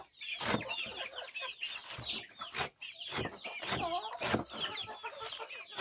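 A flock of chickens clucking close by while being fed, busy overlapping clucks and squawks with occasional louder bursts; ducks are fed alongside them.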